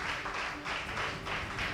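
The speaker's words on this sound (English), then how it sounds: "Sustain the clap" A school quiz audience claps steadily to welcome a competing junior school team, giving a dense, continuous patter of many hands at moderate distance that swells and dips slightly.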